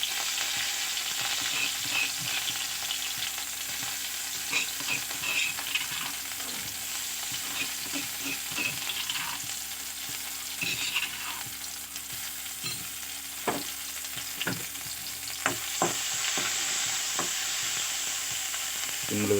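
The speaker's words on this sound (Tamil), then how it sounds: "எண்ணெய் நல்லா சூடாகிடுச்சு. அரைச்சி வச்ச சீரகம், மிளகு, வெங்காயம் சேர்க்குறோம்." Ground cumin, pepper and onion frying in hot oil, a steady sizzle with scattered stirring clicks and scrapes running throughout at close range.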